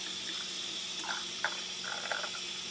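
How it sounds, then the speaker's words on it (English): Water runs from a kitchen faucet onto a small toy water wheel, making a steady, fairly soft rushing trickle with a few light splashy spikes, close by and with no talking. "I'm gonna turn on my faucet to watch it move"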